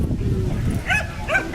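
A nine-year-old dog at a K-9 dog club event gives short barks and yips, moderately near, over faint crowd murmur and background noise.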